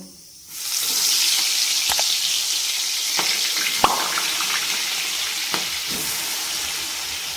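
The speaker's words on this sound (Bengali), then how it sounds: "এবার এক এক করে চিংড়ি মাছগুলো ছেড়ে দেবো" Marinated prawns dropped one by one into hot oil with garam masala, cinnamon, green chilli, bay leaf and tomato paste sizzle loudly and steadily, with a few sharp clinks of a utensil against the pan.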